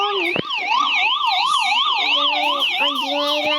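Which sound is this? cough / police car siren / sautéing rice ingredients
police car siren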